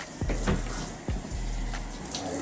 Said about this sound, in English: now I just rinse this out